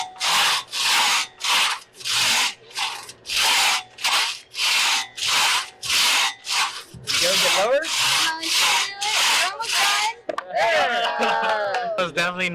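A hand saw cross-cuts through wood in steady rhythmic strokes, about a dozen loud rasping pushes and pulls close by, the pace becoming more uneven toward the end.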